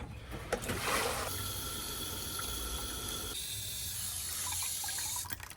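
Steady running water pours and splashes into a chicken waterer for several seconds, a continuous rushing stream that shifts in tone partway through as the container fills.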